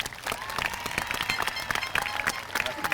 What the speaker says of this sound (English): Let's recognize Miss Sparks' homeroom with a round of applause.